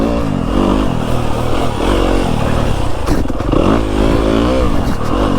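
A 2025 Yamaha YZ250FX dirt bike engine revs and pulls hard on a woods ride, a loud continuous four-stroke drone rising and falling in pitch, close to the microphone throughout.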